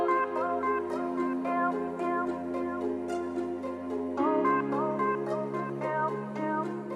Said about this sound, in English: what you're hearing right now is their French Baroque compilation.